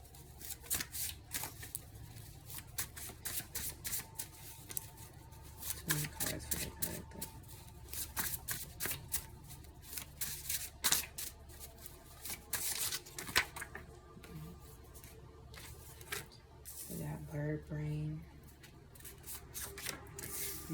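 Tarot cards being shuffled by hand in a quiet room, a long run of soft riffling, rubbing and slapping card sounds with brief pauses, close and fairly faint.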